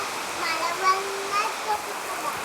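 Steady rain falls as a continuous hiss with faint patters, while a voice speaks briefly over it.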